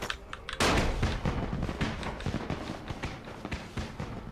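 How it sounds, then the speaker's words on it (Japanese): Firecrackers burst in the zombie game Dying Light as a quick, ragged string of sharp cracks and pops that opens with a loud blast and then crackles unevenly, with no voices. "そしたらじゃあ爆竹を使うか"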